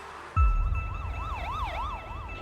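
An ambulance siren suddenly starts up nearby and wails in fast rising and falling sweeps over a low vehicle rumble, loud and continuous.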